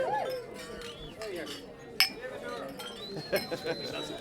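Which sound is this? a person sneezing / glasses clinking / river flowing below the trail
glasses clinking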